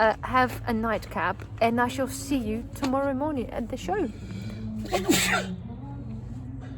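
A single sharp sneeze bursts out near the microphone late in the clip, following a stretch of close, continuous talk from people at a UK bushcraft show camp at night.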